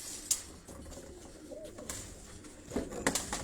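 Pigeons cooing during a pigeon-flying contest in Havelian, Hazara, soft low coos scattered through the scene with a few sharper bird sounds, close by, and a person speaking faintly in the background.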